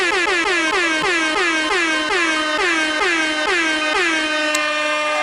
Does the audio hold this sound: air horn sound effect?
yes